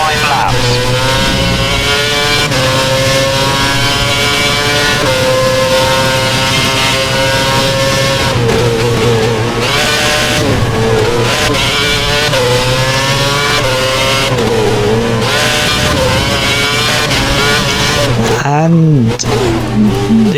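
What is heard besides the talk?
Formula 1 car losing grip and spinning, F1 2011 video game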